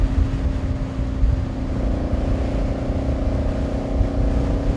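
A motorcycle with a strong Rotax engine runs steadily on a ride through Albania, a continuous loud droning hum with rumbling low tones and no speech over it.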